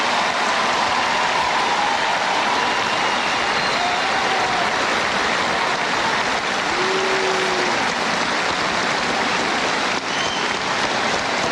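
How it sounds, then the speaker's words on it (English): A large audience applauds for Senator Dole at a 1996 election-night event, steady and dense clapping that holds loud and unbroken throughout. "I ask you to join me in applause for his lifetime of service to the United States."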